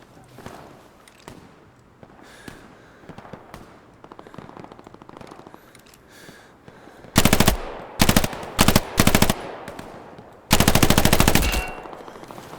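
Machine gun fire in the World War II shooter Hell Let Loose: loud, close automatic bursts, several short and one longer, following a stretch of quieter ambient battlefield noise.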